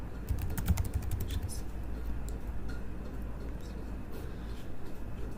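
Steady typing on a computer keyboard, dense close key clicks running continuously at an even pace, with faint background hum and no talking.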